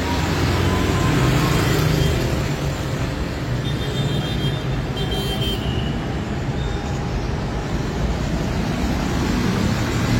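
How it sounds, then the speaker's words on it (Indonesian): Busy road traffic near SMA Negeri 4 Pematang Siantar makes a dense, continuous roar of passing vehicles that stays loud and even throughout, with no pauses. "jadi daerah ini memang cukup padat kendaraan"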